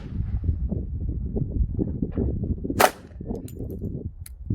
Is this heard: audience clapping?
no